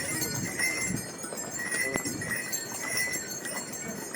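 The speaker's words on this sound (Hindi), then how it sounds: "घोड़े की यात्रा जो है वो पहली बार कर रहा हूँ" Horse hooves clip-clop on the mountain path to Yamunotri, irregular close steps over a noisy outdoor background with faint clinks and no clear talk.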